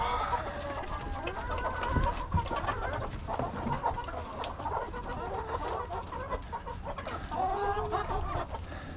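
Chickens cluck and murmur close by during morning farm chores, a busy overlapping chatter of several hens with occasional louder calls, steady throughout.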